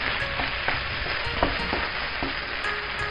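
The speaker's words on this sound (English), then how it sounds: "You just keep stirring and mixing until you don't have no more white rice left." Fried rice sizzles loudly in a hot pan while being stirred and mixed, a steady frying hiss broken by repeated scraping and clattering strokes of the utensil, with no voices.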